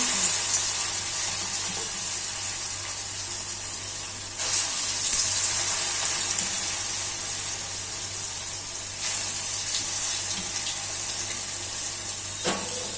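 Papad frying in very hot oil sizzles with a dense, steady hiss close up, with a few brief louder surges and faint pops along the way.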